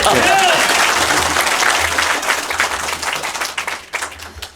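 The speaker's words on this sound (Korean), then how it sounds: "박수를 치려면 빨리 세게" Loud, rapid clapping from a political talk audience at Seoul Station, dense at first and thinning toward the end, with some talking mixed in.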